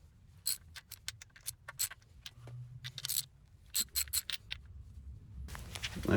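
Wrench loosening nuts on a 1968 VW Karmann Ghia 1968cc engine, a series of sharp metallic clicks and ratcheting taps in irregular bursts, close and fairly quiet.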